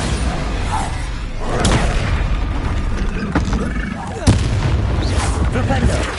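A Bombarda explosion spell in the Hogwarts Legacy video game, a sharp blast amid a dense mix of game combat booms, pops and rumble, with several impacts across the stretch.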